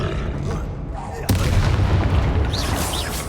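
Spell explosions from Confringo and Bombarda in the Hogwarts Legacy video game burst with a loud boom, then a dense rumbling blast that fills the rest, with a couple of faint whistling zips near the end.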